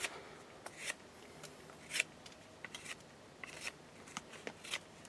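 A Bear Forest Simple Knife slices through green wood in short, irregular scraping and snicking strokes, each crisp and close, with no voices.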